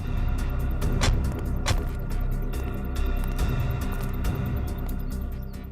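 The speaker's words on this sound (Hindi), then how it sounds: "एसीपी साहब की गाड़ी।" A car arrives with a continuous engine rumble and road noise, steady and fairly loud throughout with a few sharp clicks and knocks, and no one speaking.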